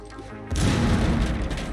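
Impact grenade blast in the tactical shooter game Rainbow Six Siege, a loud, close boom that erupts suddenly and rumbles briefly before fading.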